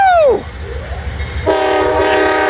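An Amtrak Surfliner passenger train at Fullerton sounds a loud, sustained multi-tone horn blast close by, over rumbling rail noise as it passes, with a falling tone at the start.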